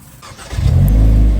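A Hyundai Elantra N engine cranks and catches at close range, then settles into a steady, loud low-pitched idle rumble.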